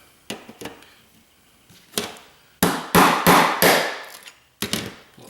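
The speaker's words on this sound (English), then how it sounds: "Light taps with the hammer," A hammer taps integrated circuit chips off a circuit board during board depopulation, giving a series of sharp, close knocks, a few isolated at first and then a quicker run of hits, each dying off quickly, with no talking.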